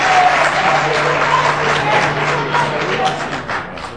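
Loud audience applause at a public political address, dense steady clapping filling the whole stretch with a crowd murmur underneath.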